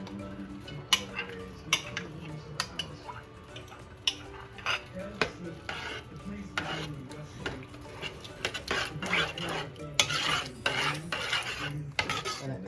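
Rice is tipped into a metal pot and stirred for Spanish yellow rice with pigeon peas, giving close, irregular scraping, rattling and clinking of utensil against pot in repeated bursts, with no talk.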